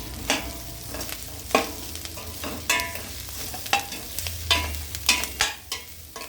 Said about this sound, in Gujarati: હવે આપણા તલ પણ થોડા ફૂટી જાય એટલે મુઠિયા નાખી દઈશું.